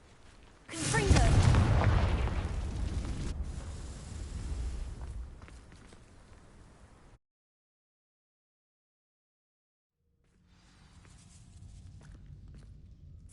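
A Confringo blasting spell erupts in Hogwarts Legacy, a loud fiery burst that rumbles and fades over several seconds, followed by silence and then quiet ambient room tone.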